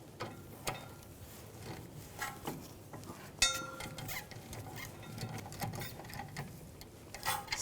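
A ratchet tightening the brake caliper pins on a 2007-2013 BMW 328i during a rear brake job, quiet rapid clicking runs with a few louder metallic knocks near the start and middle.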